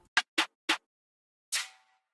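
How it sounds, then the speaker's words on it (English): Layered percussive snare sample in FL Studio, heard as three short, snappy hits in quick succession followed by a longer, softer hit with a brief ringing tail, fairly quiet and alone. "Then I layered another percussive snare sound."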